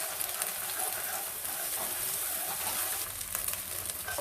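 Beaten eggs poured into hot oil in a preheated pan sizzle and crackle loudly and steadily, a close, bright frying hiss with no talking.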